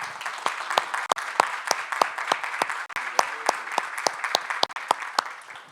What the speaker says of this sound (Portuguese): uma salva de palmas para o professor Fábio.